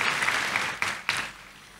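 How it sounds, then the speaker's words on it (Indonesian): A church congregation at a Sunday sermon gives a short round of clapping, quick and dense at first, with a couple of sharper claps before it thins and dies away. "Kasih tepuk tangan yang meriah untuk Tuhan Yesus"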